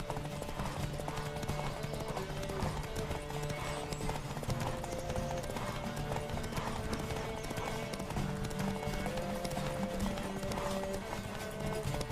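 Horse hooves galloping in a race in The Witcher 3 video game, a steady rapid clip-clop rhythm under game music and ambience, close and continuous throughout.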